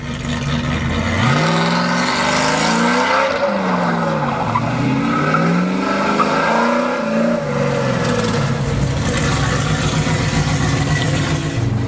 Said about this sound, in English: It is a loud, hard, brutish American muscle car.